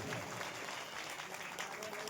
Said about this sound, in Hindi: सभी जिन जिन का स्वागत हुआ है सभी के लिए एक बार जोरदार तालियां